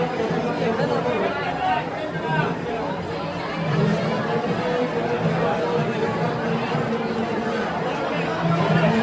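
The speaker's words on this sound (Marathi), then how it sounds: "गर्दी आहे बघा." Dense crowd chatter at the Swami Samarth temple in Akkalkot, a continuous babble of many overlapping voices close around, steady and loud throughout with no single voice standing out.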